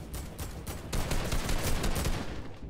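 Gunshots in Fortnite: a few spaced single shots give way to a dense, loud burst of rapid automatic fire that runs for nearly two seconds before tapering off.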